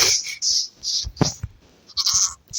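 Raspy, high bleating calls from a mob of zombie goat-men in a Minecraft RPG mod repeat in quick bursts, crying over one another, fairly close and loud.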